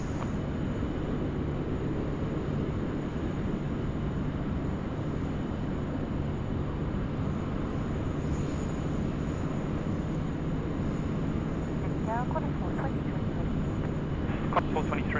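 Heavy jet departing runway 16 right at Sydney Airport, a steady, broad engine roar holding at even loudness throughout, with a faint higher tone above it and a few brief chirps near the end.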